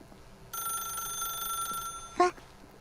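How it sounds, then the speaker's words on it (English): A telephone rings in the video game The Stanley Parable, a single bright electronic ring lasting over a second, followed by a short clattering click as the receiver is picked up, in a quiet room. "Then pick up the phone."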